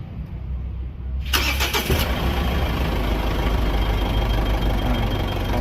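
A Mitsubishi 4D56 diesel engine sits quiet, then cranks and catches with a loud burst before settling into a steady, rough idle close by.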